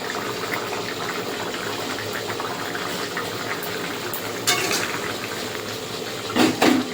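Water poured into a simmering katla fish curry with ridge gourd and potato, a steady bubbling boil throughout with a brief gush of added liquid and a clink near the end, no talking.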